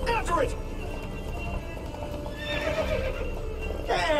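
Geralt's horse Roach in The Witcher video game gallops with steady hoofbeats and gives loud, shrill neighs at the start and end, under game voices.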